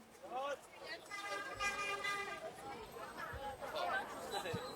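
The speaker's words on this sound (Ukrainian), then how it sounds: "Голоси людей, звуки машин." Several voices chatter at moderate distance with overlapping talk, while a brief horn-like tone sounds in the middle amid steady background noise.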